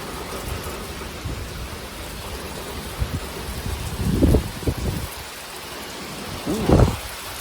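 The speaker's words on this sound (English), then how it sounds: "Big time thunderstorm." A thunderstorm brings steady heavy rain with two deep rolls of thunder, the first around the middle and a second, closer rumble near the end.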